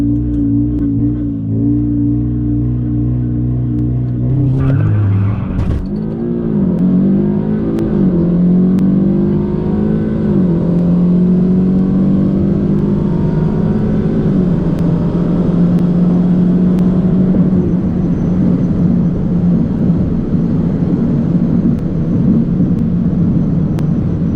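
A Stage 2 Audi S3 launching off the line on a drag strip, its engine droning at idle before a sharp bark, then a long, loud, rising pull through the gears that stays close and dominant throughout.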